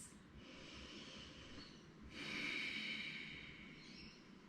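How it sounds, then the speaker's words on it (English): Ujjayi breathing, a slow exhale through the throat with lips closed as if fogging a mirror, gives a soft, airy rasp that swells midway and then fades, heard close and alone. "This type of breathing is called our Ujjayi Breath"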